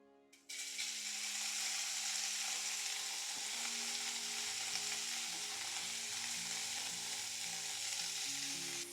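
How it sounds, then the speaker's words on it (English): Salt-seasoned beef steak sizzles and spits loudly in a hot pan as it sears, the hissing starting suddenly and holding steady with faint stirring and scraping underneath. "Look at that lovely sizzle."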